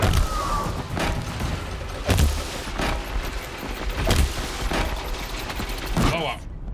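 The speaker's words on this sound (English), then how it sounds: "I launched so many bombs at it." Bombs exploding in Horizon Zero Dawn, played on PC: about seven loud, booming blasts land roughly once a second over steady combat noise.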